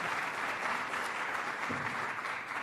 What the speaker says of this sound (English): Give Gene a round of applause, for heaven's sakes